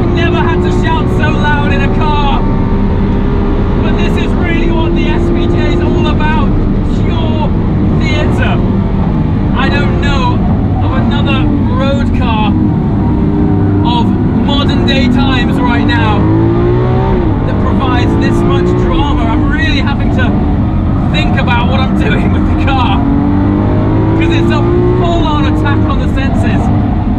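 Lamborghini Aventador SVJ engine roaring loudly on a race track, its pitch climbing and dropping through repeated gear shifts, with someone shouting over it throughout.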